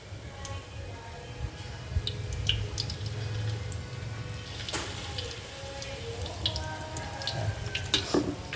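Shrimp frying in oil over low heat, a soft steady sizzle and crackle with scattered pops and bubbling, fairly quiet and close, with faint clinks of a utensil now and then.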